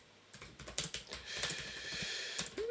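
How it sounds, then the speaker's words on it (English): Rapid keystrokes on a computer keyboard, a quick irregular clatter of close, crisp clicks running steadily with no talk. "You must forgive me as I'm typing this out."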